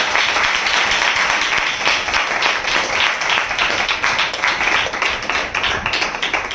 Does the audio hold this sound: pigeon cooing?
no